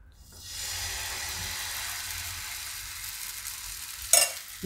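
Sweet pudla batter hits a hot pan and sizzles steadily for several seconds, a loud continuous frying hiss with a brief clatter of a spoon near the end.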